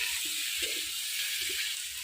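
Potatoes sizzle steadily in a pan of oil with ground chili and ginger paste, cooked for a Bengali katla fish curry with cauliflower. The frying hiss is close and even, with no talking.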